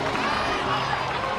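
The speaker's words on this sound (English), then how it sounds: "Let's give a huge round of applause to our brave young warrior, Kachina!" A crowd cheering and clapping in a short, dense burst in the video game Genshin Impact, lively and close, with excited voices mixed in.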